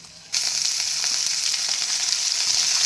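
Cumin, garlic and onion hitting hot oil burst into loud, close sizzling after a brief quiet start, then keep frying in a steady crackling hiss with faint stirring.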